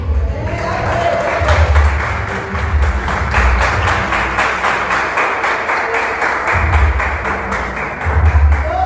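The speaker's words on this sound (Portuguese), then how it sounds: "Fique de pé e aplaude ao nome de Jesus." A church congregation standing and applauding in praise, a sustained roomful of rhythmic clapping with a low pulsing musical bed beneath, loud and close throughout.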